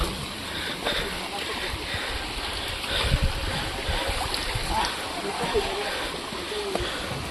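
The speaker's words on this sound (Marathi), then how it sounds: "छोटासा पाण्याचा झरा." A small spring-fed stream trickles along a hillside trail on the way up to Karnala Fort, a soft continuous wash of water with faint splashes close by, while scattered voices and footsteps drift in now and then.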